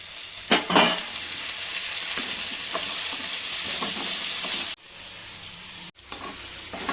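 Tomatoes sizzle and fry in a pan while sabudana khichdi cooks, a steady crackling hiss with a few stirring clinks near the start and two short breaks in the second half.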